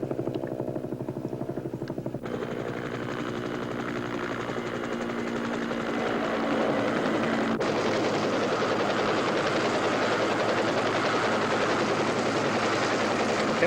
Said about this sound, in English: a helicopter is called in to evacuate the man